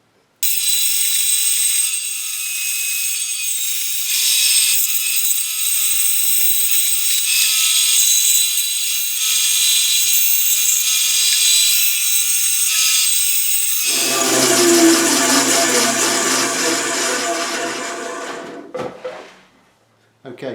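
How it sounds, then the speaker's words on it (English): A bandsaw cuts the bulk from an SG junior style guitar body blank, giving a steady high rasping whine. A lower grinding joins partway through, then the sound winds down toward the end. "I'm going to take the bulk off with the bandsaw"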